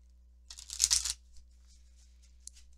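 Tarot cards are shuffled and drawn in a quiet room: a brisk riffle of flicking cards for about half a second, then soft sliding and a single light snap.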